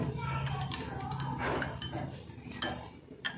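Custard powder is stirred into cold water in a kitchen vessel to break up the lumps. A spoon scrapes and clinks close by, with soft voices in the background.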